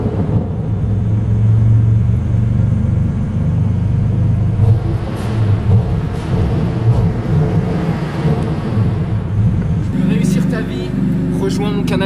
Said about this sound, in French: je peux vous faire écouter le bruit du moteur si vous voulez.